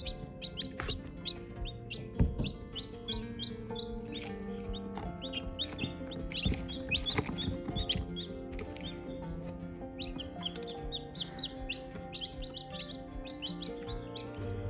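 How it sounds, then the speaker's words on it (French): Newly hatched chicks on day 22 of incubation peep constantly in high, rapid chirps, many birds overlapping in a busy chorus that is close and steady, with occasional clucking and no talking. "Alors, des petites nouvelles, des petits poussins."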